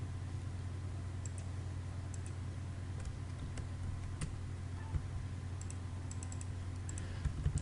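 Faint mouse clicks while working in CorelDRAW software, scattered single and double clicks over a steady electrical hum, with no talking.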